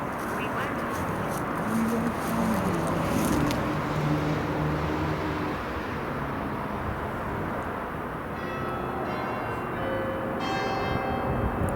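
Church bells ring in a churchyard, distant and mixed into a continuous noisy outdoor background, with people talking throughout.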